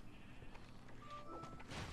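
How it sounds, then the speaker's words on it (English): Sheep dying in Minecraft Dungeons, a single short bleat that swells near the end over a low steady game background hum, fairly faint and with no talking. "I killed a sheep and it made a pig noise"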